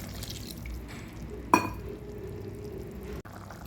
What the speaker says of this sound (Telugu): అయినా కొంచెం వాటర్ పోసుకొని ఉడికించుకుందాం.